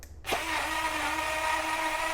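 A Beyn 530 mL portable cordless USB-C smoothie blender with soapy water runs its clean cycle. Its small motor kicks on abruptly and whirs steadily and loudly to the end.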